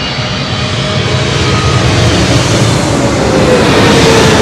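Airplane engine noise at LAX airport, a steady broadband roar that holds at full loudness throughout, with no one talking.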